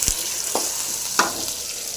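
Ingredients fry with salt in a pan for sukkangai stir-fry, giving a steady sizzle with a few sharp spatula scrapes or taps spaced out, close and clear with no talking.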